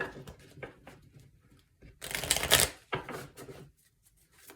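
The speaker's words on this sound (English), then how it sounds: "Shuffle those twice." A close, quick shuffle of a tarot deck, with soft card handling leading into a bright riffling burst and a few lighter shuffles trailing off.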